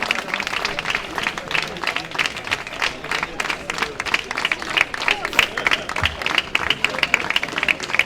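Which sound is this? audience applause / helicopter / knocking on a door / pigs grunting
audience applause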